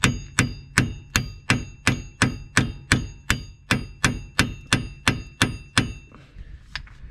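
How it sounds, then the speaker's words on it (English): Hammer blows on a punch driving out a wheel hub bearing on the left driver's side of a 2004 Chevy Impala 3.4, about fifteen sharp ringing metallic strikes in an even, steady rhythm, then a brief faint scrape. "you can start to hammer it a little bit until you feel and see it start to back out"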